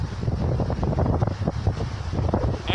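Steady wind roars and buffets the microphone outdoors, a loud continuous rumble with no break.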